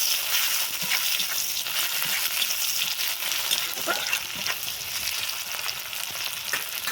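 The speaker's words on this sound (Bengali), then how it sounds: "টমেটোটাকেও ভালোভাবে কষিয়ে নিতে হবে।" Tomatoes and onions fry in a pan for a golden fish curry, giving a steady, dense sizzle with crackling and occasional stirring scrapes throughout, no voices over it.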